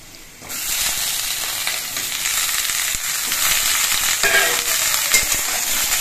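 Potatoes and eggplant frying together in oil in a pan give off a loud, continuous sizzle that starts abruptly and carries on steadily. Faint stirring scrapes come through close by.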